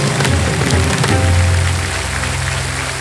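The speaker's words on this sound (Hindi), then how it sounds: "ताली बज जाए सबके लिए।" A studio audience on the Kaun Banega Crorepati quiz show breaks into dense, sustained applause, loud and even at first, then easing slightly while music swells underneath.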